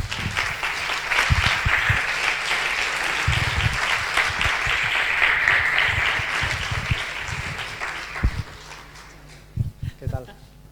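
An audience at a history lecture applauds a guest speaker coming up to the stage: a full, even round of clapping that thins and fades near the end, followed by a few close bumps and handling noises.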